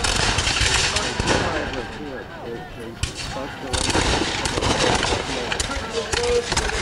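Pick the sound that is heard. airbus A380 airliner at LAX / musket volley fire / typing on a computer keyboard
musket volley fire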